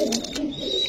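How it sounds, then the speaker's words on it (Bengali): Chila pigeons cooing at a busy pigeon market, a short, moderately loud low burble with faint higher chirps in the background. "চিলা কবুতর অনেকেরই পছন্দের কবুতর"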